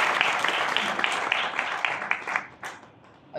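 Worshippers at a Hindi church service in Abu Dhabi applaud the musicians who led the hymns: a loud, close burst of crowd clapping that fades into scattered claps before a last single clap.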